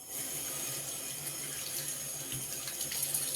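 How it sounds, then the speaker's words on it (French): Running tap water pouring steadily into a sink during a rinse, a close, continuous hissing splash with no talk. "Hop, je vais me rincer."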